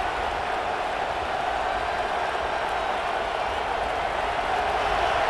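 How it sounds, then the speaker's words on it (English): Steady roar of a stadium crowd in the CFB 26 college football video game, Alabama versus Oklahoma in a playoff game, a continuous dense cheer with no breaks. "the crowd coming to life here"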